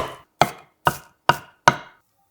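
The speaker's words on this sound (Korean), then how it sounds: "토마토 소스에 들어갈 양파 4분의 1개는 칼집 여러 번 넣고 작게 썰어 준비하고" A knife chops a quarter onion into small pieces for tomato sauce, making five crisp, evenly spaced thuds on a cutting board, close and clear with nothing else heard.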